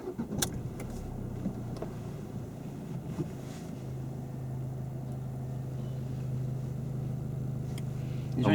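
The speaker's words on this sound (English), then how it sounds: "You start the car off." A car engine idles with a low rumble during a driving lesson, then settles into a steady hum that slowly grows louder as it pulls away.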